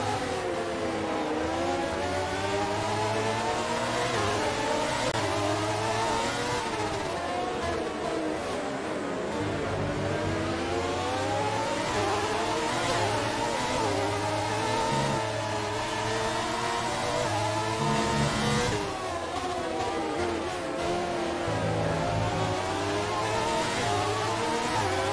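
F1 race car engines from the F1 2019 game at the Brazilian Grand Prix restart: a steady, layered high-pitched engine whine with repeated rising and falling revs through gear changes, continuous and loud, with no talk.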